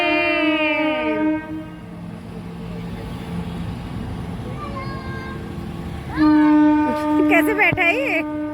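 A train arrives with long loud horn blasts, the rumble of wagons rolling under them; the horn sounds at the start, fades, then blares again close and loud near the end.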